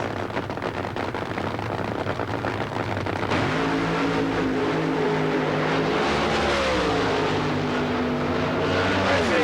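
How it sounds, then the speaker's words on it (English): A funny car on a drag-racing run at the Fall Nationals gives a loud, raw engine roar. It intensifies into a sustained high-power blare with rising and falling pitch as the car passes. "Bernstein looking for another of those magic 270-mile-an-hour runs in a funny car"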